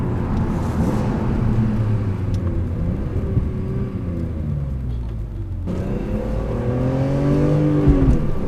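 A stock BMW E46 M3 engine with standard exhaust revs up and down, rising and falling in pitch with a raspy tone, close and moderately loud.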